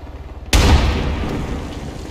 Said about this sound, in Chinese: 等一下，车子被轰了